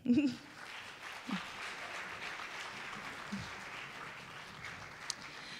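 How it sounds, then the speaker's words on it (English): Audience applause at a school band's concert, a soft steady wash of clapping that starts with a louder burst and continues at moderate distance with a few sharper claps standing out. "Please give them a round of applause."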